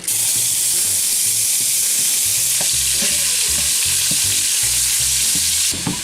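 Ground chuck frying in a pan with bacon gives a loud, continuous sizzle, with the clatter and scrape of stirring recurring throughout and light music underneath.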